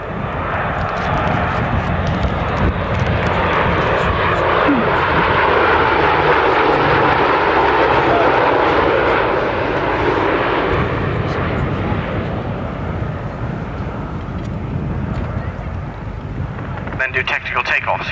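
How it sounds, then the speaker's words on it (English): A Hercules transport aircraft approaches an RAF airfield at a 1992 air display with a loud, steady propeller-engine drone that swells and then eases. A commentator talks over the roar throughout. "the Hercules is now approaching the outer boundary of the airfield"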